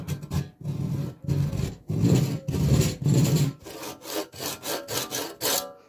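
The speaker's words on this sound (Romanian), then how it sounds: "Luăm ferăstrăul și la fel ca și cealaltă o vom tăia pe mijloc." A hand saw cuts a coconut shell in half in rhythmic back-and-forth strokes, loud and close, about a dozen rasping passes that grow quicker and lighter toward the end.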